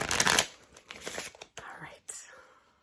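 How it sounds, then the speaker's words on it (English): A deck of playing cards shuffled in a short, loud papery riffle over the first half second, followed by softer card rustles and handling sounds that fade out. "give it a few shuffles, and we'll draw a card."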